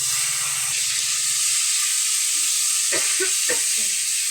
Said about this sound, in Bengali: পেঁয়াজ ভালোভাবে কষে নিচ্ছি